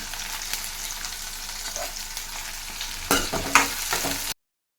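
Onions frying in a pan as the base for an egg curry, a steady close sizzle with brief stirring scrapes and louder crackles near the end before it cuts off.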